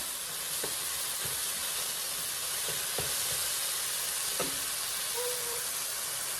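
Ground hamburger meat sizzles steadily in a hot pan while being stirred, a constant frying hiss with a few soft scrapes and clicks of the utensil, close and unbroken, with no talking.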